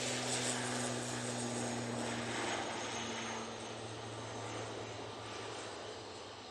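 An Aer Lingus airliner on its takeoff roll at Manchester Airport gives off a loud, sustained engine roar with a steady low tonal hum, easing slightly in level toward the end with no voices.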